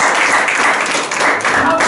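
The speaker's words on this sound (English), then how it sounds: "Clap for him." An audience claps together at a church missions-week gathering, a dense, steady patter of hands filling the room at close range for a couple of seconds.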